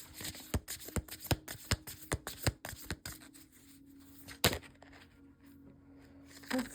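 Tarot cards being shuffled and handled in a run of sharp, rhythmic snaps and flutters, close and fairly loud, thinning out into quieter rustles and one last crisp slap near the end.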